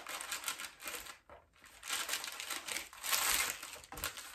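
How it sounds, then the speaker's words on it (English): Palette paper being folded over at its long end for a wet palette, a continuous crisp crinkling and rustling close up, with a brief pause before the crackling resumes and grows louder. "It's a little bit long on the end there, so I should just fold that end over."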